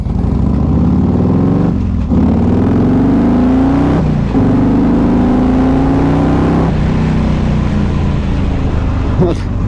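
A car engine drones loud and close, its pitch climbing steadily under acceleration, with brief dips at each of three gear changes.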